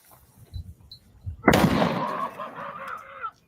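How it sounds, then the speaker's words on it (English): A 37 millimeter round fired at a barrel from a hand cannon sets off a delayed explosion, a sudden loud boom that rolls on with a rumbling, crackling tail outdoors, preceded by brief voices. "I wasn't expecting the delayed explosion."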